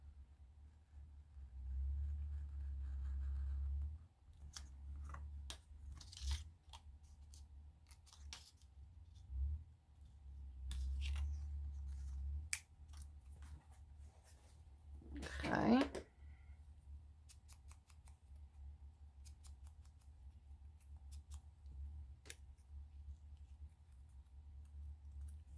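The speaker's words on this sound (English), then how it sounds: "I'm going to get my X-Acto knife because I don't want to crinkle the sides of this." An X-Acto knife slices through paper while an envelope is made for a sewing-themed junk journal, giving several short dry scraping cuts and scattered light clicks over a low, quiet hum.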